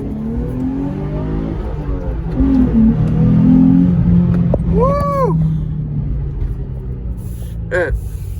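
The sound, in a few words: Nissan 350Z engine revving while driving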